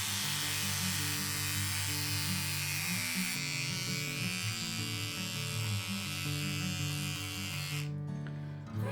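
Braun and Remington electric hair trimmers running at the same time, a steady layered motor buzz with overlapping hum tones, close and continuous.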